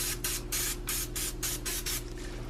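A can of cooking spray is sprayed into a pan in several short hissing bursts, about seven quick sprays in a row, close and fairly loud, with no talking.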